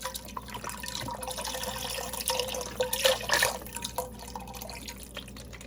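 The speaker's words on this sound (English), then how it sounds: "Let's get this broth in there." Bone broth is poured into a soup pot for zuppa toscana, giving a close, continuous splashing and gurgling of liquid with a couple of louder surges and no talk.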